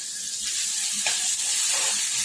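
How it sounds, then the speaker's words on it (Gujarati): Garlic-chili paste and ginger paste with a pinch of asafoetida hitting hot oil, giving a loud, continuous close sizzle and hiss. "અહીંયા તેલ ગરમ થઈ ગયું છે ચપટી હિંગ એડ કરીશું આપણે ચમચી લસણ મરચાંની પેસ્ટ એડ કરીશું અને આદુની પેસ્ટ એક ચમચી"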